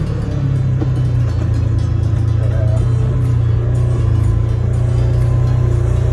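Engine of a 2025 Polaris RZR XP side-by-side fitted with a Pedal Commander throttle controller, a loud, steady low idle drone holding close and continuous with no talking.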